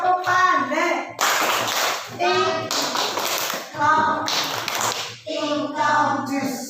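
A classroom group of students claps their hands together in short rhythmic bursts of patterned clapping, with loud breaks between bursts and children's voices chanting in between.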